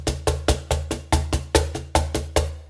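Percussion strokes in a steady quick pulse, about a dozen hits, alternating between a louder and a softer stroke so the two hands sound uneven, played close and alone.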